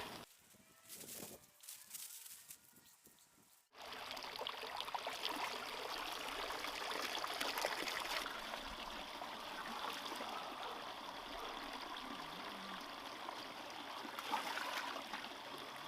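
Water runs steadily from a garden fountain outdoors, a continuous close splashing trickle that starts abruptly after a few seconds of quieter rustling, with faint birds in the background.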